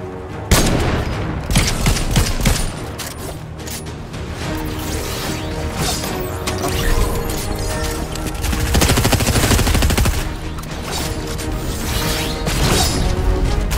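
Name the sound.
submachine gun fire in a video game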